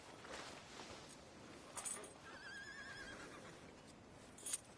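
A horse in Red Dead Redemption 2 gives a soft, faint whinny in the middle of the clip, heard over a quiet outdoor ambience, with a brief snort-like burst near the end.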